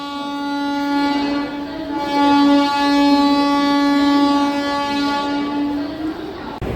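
A DEMU passenger train pulling out of Done Junction sounds a long, loud, steady horn that swells and fades over several seconds, with a sharp knock near the end.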